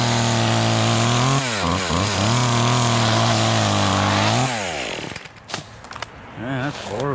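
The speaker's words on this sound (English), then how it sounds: "The chainsaw's very good, guys." A chainsaw trimming a palm tree roars loud and close, holding a steady high-pitched whine with a few throttle dips before cutting out. Brief voices and knocks follow.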